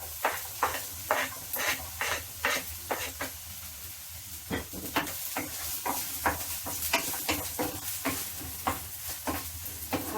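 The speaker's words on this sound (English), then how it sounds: "I put the onion and garlic." Onion and garlic sizzling in a pan for vegetable pasta, a steady hiss broken by regular scraping stirs, close and moderately loud, with no talking.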